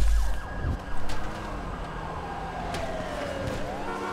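A wailing police siren in GTA V sweeps up and down over a rumbling engine, with a few sharp bursts of noise early on.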